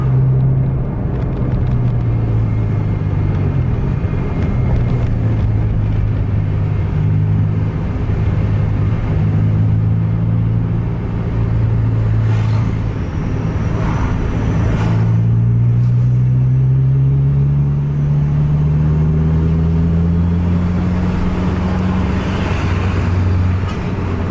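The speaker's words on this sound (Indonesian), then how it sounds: "Lalu lintas padat, banyak truk tuh." Heavy road traffic with many trucks, heard from inside a vehicle on a busy road at night: a loud, steady engine rumble with rising and falling drones from passing heavy vehicles, continuous throughout.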